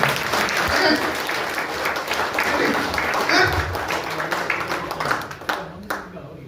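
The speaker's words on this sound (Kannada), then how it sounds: "ಜೋರ ಹೊಡೀರಿ ಚಪ್ಪಾಳೆ" Loud, continuous applause from an audience at a Mysore training session, dense clapping that carries on steadily before thinning out near the end.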